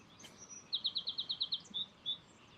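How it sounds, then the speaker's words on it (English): A bird by a river gives a quick run of about eight bright, even chirps, then two more spaced notes, fairly faint and distant over a soft outdoor background with no talk. "now you can hear like all the other birds"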